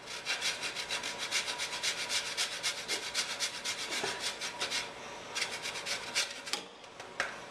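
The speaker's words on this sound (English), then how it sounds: "Just going to grate a little fresh Parmigiano Reggiano over the top" Fresh Parmigiano Reggiano grated over a bowl of pasta, a steady run of quick rasping strokes, close and fairly loud, pausing briefly before a few more scrapes.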